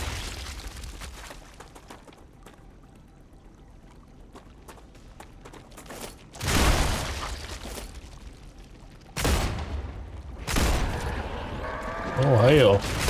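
Pistol shots in the sci-fi survival game Star Rupture, three sharp loud broadband bursts spaced a few seconds apart, standing out above quieter game ambience, with brief tonal game sounds after the last shot.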